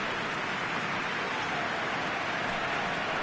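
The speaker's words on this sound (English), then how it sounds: "when the rain comes, we are warned to expect plenty of it" Steady heavy rain in a football stadium in the video game PES 2020: a dense, continuous hiss of falling rain, constant and even throughout with no voices.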